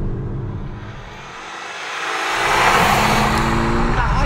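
A stage 2 Ford Focus ST Mk2 engine drops off, then climbs hard to 7,000 rpm, its rising rasp swelling loud and close as the car accelerates.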